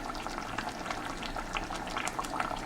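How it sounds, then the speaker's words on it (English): Cooking oil going into a bubbling Nigerian tomato stew, a soft continuous gurgling simmer with faint pouring and bubbling, low and steady with no voices. "Just add oil."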